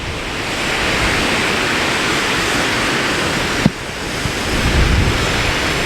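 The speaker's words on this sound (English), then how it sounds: "And that's the waterfall from up above." Heavy overnight rain has swollen the Eas Mor waterfall at Kildonan, heard from high above as a steady, distant broadband rush that continues throughout, with one brief knock partway through.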